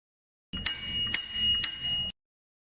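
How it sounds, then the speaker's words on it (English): Three sharp metallic rings from the bell on a RoyalBaby kids' freestyle bike, evenly spaced about half a second apart, each with a bright lingering tone, close and alone. "And then installing the bell."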